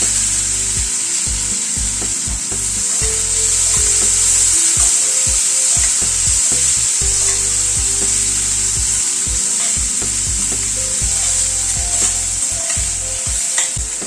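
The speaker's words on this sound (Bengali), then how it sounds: "পেঁয়াজটাকে একটু হালকা করে আগে ভেজে নিচ্ছি।" Two chopped onions fry gently in oil in a pan over a low gas flame, with a steady close sizzle and repeated scraping stirs of a utensil against the pan throughout.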